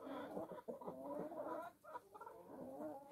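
Hens cluck busily together in a farmyard around a newly introduced year-old rooster, a steady overlapping murmur of clucks and short calls close to the listener, with no talk.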